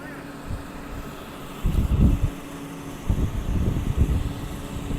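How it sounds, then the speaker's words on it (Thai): A Caterpillar 349 excavator's heavy six-cylinder diesel engine rumbles steadily, swelling in low surges a few times, with wind-like noise over the microphone. "คงเป็นเครื่องยนต์หกสูบนะครับของแคท"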